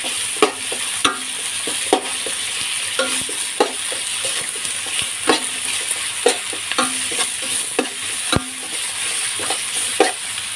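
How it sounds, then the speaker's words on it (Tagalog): Onions sauté in a pan until lightly reddened, ahead of bottle gourd for ginisang upo. A constant sizzle runs underneath while close spatula strokes knock and scrape the pan about once a second. "Nalagay na natin ang ating sibuyas. Medyo papula-pulay lang natin siya ng konti."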